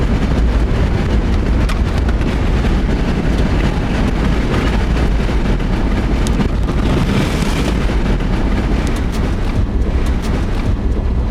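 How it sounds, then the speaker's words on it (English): A strong rear-flank downdraft gust tears past near a large tornado in Harper and Sumner County, Kansas, a loud, continuous roar of wind buffeting the microphone for the full length, with no one talking. "That's a big RFD gust."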